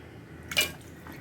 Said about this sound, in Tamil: இப்போ வந்து இந்த ஆட்டுக்கால் எல்லாத்தையும் அதில் சேர்த்து விட்டுடலாம்